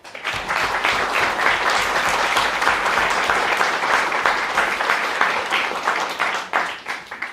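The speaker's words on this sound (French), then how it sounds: "Applaudissons Gilles, s'il vous plaît." Sustained audience applause fills a hall at a show held in a château, dense steady clapping carrying on for the whole span at even loudness with faint voices underneath.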